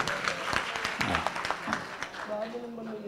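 Applause from a mushaira audience in the Urdu Academy Auditorium, Lucknow, welcoming a poet: scattered clapping mixed with talk from the stage and crowd over a short stretch.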